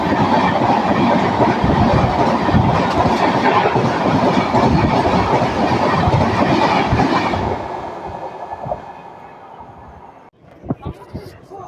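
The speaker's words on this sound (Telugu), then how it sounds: "లింగంపల్లి ఇంటర్సిటీ ఎక్స్ప్రెస్తో మనకి క్రాసింగ్ జరుగుతుంది." Hyderabad Express train 12604 rolling along the rails, a loud, dense rumble of wheels and carriages with steady clatter that fades and thins toward the end as the train slows, with a few sharper knocks near the close.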